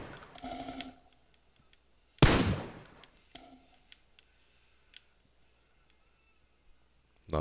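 One loud burst of video game gunfire cracks out about a third of the way in, followed by quiet clicks and small scattered taps in a mostly hushed scene.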